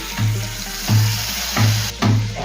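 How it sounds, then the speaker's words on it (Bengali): Water runs from a tap while a bowl is washed in a home kitchen, a steady splashing stream broken into four rhythmic bursts as the bowl is moved under it. "বাটিটা ধুয়ে অল্প পরিমাণে গরম জল।"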